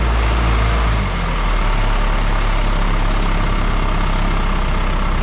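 Heavy vehicle engine idling loudly and close, a steady low rumble that holds constant throughout with no talking over it.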